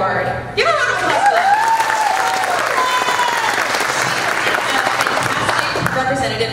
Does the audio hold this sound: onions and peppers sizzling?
no